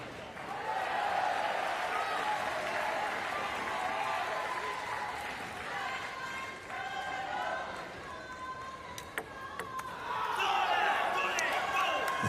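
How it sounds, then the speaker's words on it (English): French crowd at a Paralympic table tennis men's standing doubles semi-final in Paris, a steady murmur of cheers and claps with ball and paddle knocks, swelling into louder applause near the end, with a commentator's voice over it. "the French crowd reacting to every single second of this Para table tennis men's"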